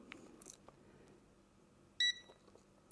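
Single short electronic beep from a Thsinde 18B+ multimeter in continuity mode, sounding once midway through an otherwise quiet stretch with faint handling noise.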